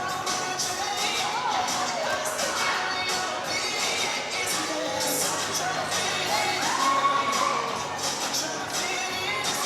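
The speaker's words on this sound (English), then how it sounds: "Enthusiastic crowd tonight." An enthusiastic crowd cheers at a college volleyball game between Dickinson State and Dakota State, a sustained roar of voices with whoops and shouts rising and falling over steady hall noise.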